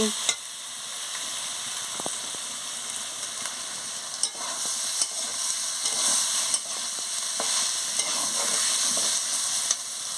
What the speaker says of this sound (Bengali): সামান্য লঙ্কার গুঁড়ো দিয়ে দিচ্ছি দিয়ে ভালো করে নাড়িয়ে নিচ্ছি